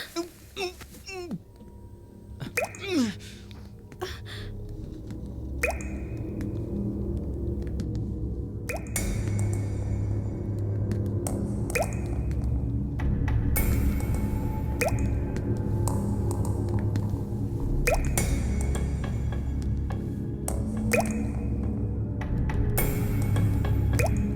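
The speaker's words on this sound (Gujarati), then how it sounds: "પાણી ક્યાંથી ટપકી રહ્યું છે?" Water drips in a dim interior, scattered sharp droplets landing among squishy, wet sounds over a low rumbling background, with people talking at times.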